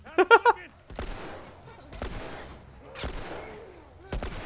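Several sharp gunshots in The Last of Us, a quick burst of three close together at the start, then single shots spaced about a second apart, with game sounds in between.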